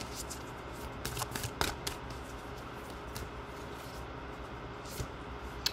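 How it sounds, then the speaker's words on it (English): Tarot cards shuffled by hand in a steady run of soft riffling flutters and crisp card snaps, close and fairly quiet over a faint room hiss, with no talking. "let's go ahead and pull some more cards"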